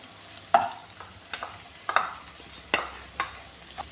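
Okra and grated coconut are stirred together in a pan, giving a series of distinct scraping strokes, about six spaced through the moment, over a soft background sizzle.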